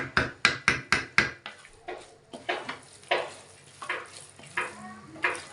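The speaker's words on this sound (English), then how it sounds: "mix everything with the sauce till it's fully coated like this" Rice being stirred into jollof sauce in a pot, a spoon knocking and scraping in a quick run of five sharp strikes, then slower, softer scrapes and taps spaced out with a faint sizzle beneath.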